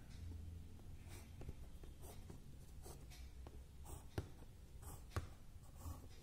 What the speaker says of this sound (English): Okay, again from here also I have to draw locus line.